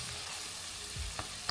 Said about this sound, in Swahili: Sasa hivi hapa naenda kuweka kitunguu saumu pamoja na tangawizi.